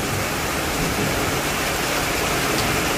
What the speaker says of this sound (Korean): 빗소리 들으세요. 와, 순식간에 비가 쏟아집니다.